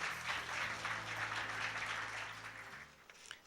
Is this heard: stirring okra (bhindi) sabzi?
no